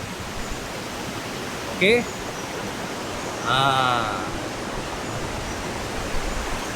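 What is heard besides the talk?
river flowing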